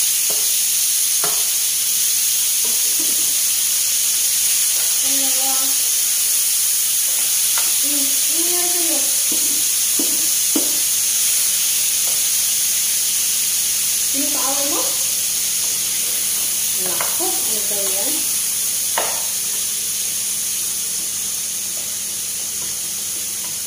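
Masoor daal fries in a pan with a steady, loud sizzle and hiss that runs throughout, while a few brief voices speak over it.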